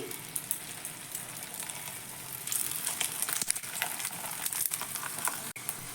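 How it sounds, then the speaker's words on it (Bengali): Wheat flour puris frying in hot oil, a faint continuous bubbling sizzle with soft crackles that grows slightly busier midway and stays quiet and close throughout. "ওই তেলের মধ্যে বাকি টিফিনগুলো ছেড়ে দিচ্ছি"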